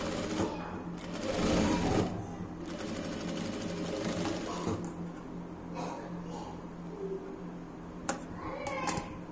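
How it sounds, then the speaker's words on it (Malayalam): A sewing machine stitches lines across fabric in bursts of close, rapid mechanical whirring, with a louder run near the start, pauses between stitches and brief handling clicks. "ഇനി നമുക്ക് ഇതിന്റെ മീതെ വെച്ചിട്ട് ഒരു സ്റ്റിച്ച് ഒന്ന് ചെയ്ത് കൊടുക്കാം."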